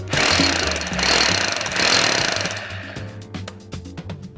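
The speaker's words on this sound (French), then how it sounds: "je vais prendre la très fine mèche afin de faire des repères exactement dans cette verticalité" Power drill fitted with a very fine bit marking hole positions for a shelf rail, loud and close, running in steady bursts for a few seconds before winding down into a quieter tail.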